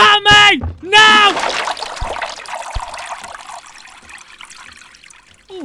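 A toilet flushing in the video game Burglin Gnomes, a steady trickling, rushing swirl of water that follows loud shouting and slowly fades out over several seconds.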